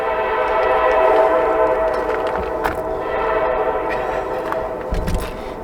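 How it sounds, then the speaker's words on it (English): A train rumbles steadily past at close range, a continuous loud roar of wheels and cars with a few sharper rattles and clanks, heard near an RV. "let the choo-choo train pass"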